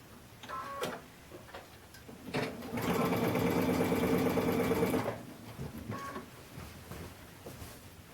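Sewing machine stitching quilting fabric in a quick, even mechanical run of about two seconds, close and loud, between quieter handling noises and faint talk.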